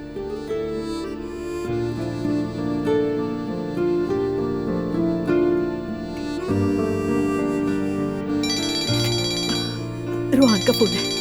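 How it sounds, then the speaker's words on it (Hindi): A phone rings with a melodic ringtone over background drama music, repeating tones building toward the end, in a domestic scene from a Turkish drama, with no talk over it. "रोहान का फोन है।"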